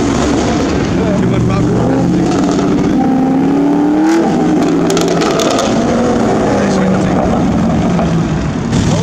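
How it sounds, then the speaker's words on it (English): A car engine revs loudly at a cars-and-coffee meet in West Palm Beach, with pops among the throttle blips, close by under steady crowd noise and some voices talking. "He was just popping. He was just revving."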